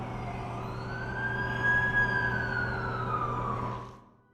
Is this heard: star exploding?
no